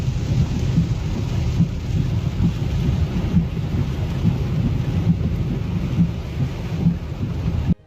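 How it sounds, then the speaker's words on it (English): Heavy rain pours steadily during a storm over northeastern China, a dense loud hiss with low rumbling thunder rolling underneath throughout, no voices. "They were hit by an independent heavy rainfall system moving through northeastern China"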